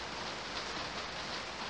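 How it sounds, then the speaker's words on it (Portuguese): Rain falls steadily outside on a cool day, a soft, even hiss of broadband patter heard faintly and continuously with no voices. "Aqui tá chovendo, tá?"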